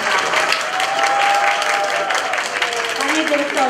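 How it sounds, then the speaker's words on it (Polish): An audience at a Christmas Eve gathering applauds the director, dense sustained clapping from many hands filling the room, with a voice faintly audible beneath it. "I tutaj mocno brawa."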